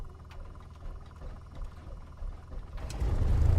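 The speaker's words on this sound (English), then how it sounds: "propeller clear, ignition to start, and we'll see if this starts" A simulated Piper PA-28 engine in Microsoft Flight Simulator 2020 cranks and catches near the end, swelling from a quiet background into a loud, steady running roar.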